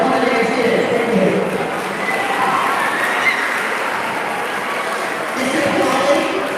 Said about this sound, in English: Let's give a round of applause for our culinary students.